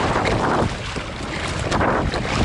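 Strong wind at sea roaring and buffeting the microphone in loud gusts during kayak fishing, with a brief lull midway before rushing back.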